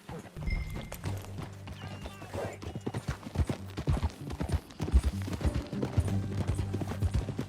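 Horse hooves in Red Dead Redemption 2, a rapid uneven clip-clop of galloping close by, with scattered thuds and a faint snort under the rhythm.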